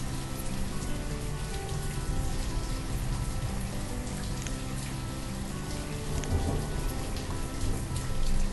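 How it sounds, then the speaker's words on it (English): Video game rain and thunderstorm: steady rain pours down with low rumbling thunder rolling underneath, a dense continuous wash of sound that swells slightly toward the end. "The rain and the storms, they really do immerse you into this game."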